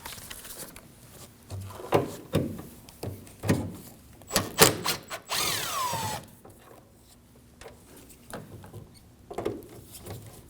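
Ratchet or hand tools loosening 10mm bolts from the rear hatch strut of a Subaru Crosstrek, heard as close clicks and taps in short bursts, with one longer metallic scrape partway through.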